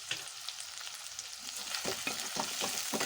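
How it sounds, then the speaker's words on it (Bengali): Two chopped medium onions and two green chillies frying in a pan: a continuous bright sizzle with a run of soft spatula scrapes and stirs growing busier toward the end, no talking. "একটু ভেজে নেব পেঁয়াজটা"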